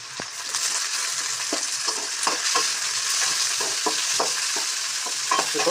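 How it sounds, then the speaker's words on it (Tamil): Onion and tomato fry in a pan for a kovakkai gravy, giving a steady bright sizzle broken by the scrape and clack of a spoon stirring at irregular intervals. "கொஞ்சம் தக்காளியை நல்லா தொழி விட்டுங்க."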